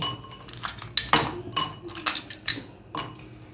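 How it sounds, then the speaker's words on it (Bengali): About five ice cubes dropped one by one into a glass for a mint masala mojito, giving crisp clinks and knocks at irregular intervals, close and moderately loud. "সুগার সিরাপটা অ্যাড করে দেবো আর কিছু আইস কিউবস এর মধ্যে অ্যাড করে দেবো"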